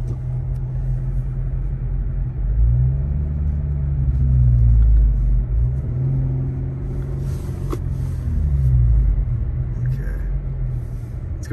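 A car drives a snowy street in Big Bear Lake during a heavy blizzard, its engine a low, steady rumble that swells and eases, heard from inside the vehicle.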